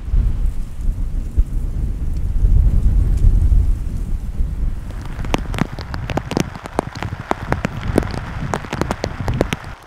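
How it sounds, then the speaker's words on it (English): Heavy rain pours down at a wilderness camp, opening with a deep rolling rumble of thunder and then turning into dense, close patter with sharp individual drops striking a nearby surface. "the rain is well and truly setting now"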